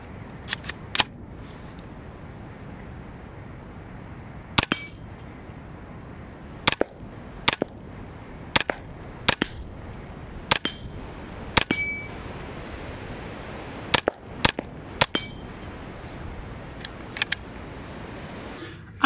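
A Hammerli TAC R1 .22 rimfire rifle fires about a dozen sharp, cracking shots at irregular intervals, some spaced seconds apart and a few in quicker pairs, loud and close over faint background hiss, with no talking.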